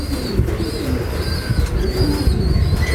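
Racing pigeons come in to their loft in the rain, soft cooing calls repeating over a steady background wash, with occasional wing flutter and chirps, fairly close and unaccompanied by talk.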